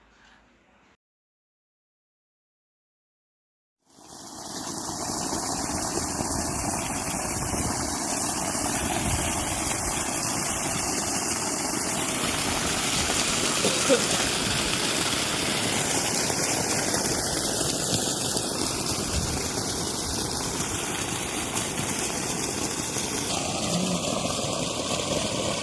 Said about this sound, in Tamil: ஒரு ஆயில் இன்ஜின் மூலமாக தான் தண்ணி எடுத்துகிட்டு இருந்தாங்க.